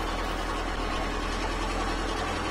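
A car engine in The Long Drive video game drones steadily with a low, even hum and faint rhythmic pulsing, loud and continuous with no voices.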